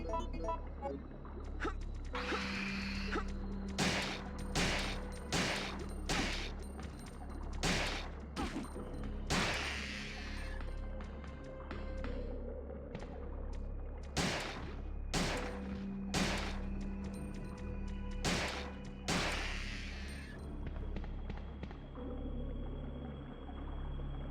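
Shotgun blasts fire repeatedly in a video game, roughly a dozen loud sharp shots in uneven bursts over a steady low engine-like drone, with no talking.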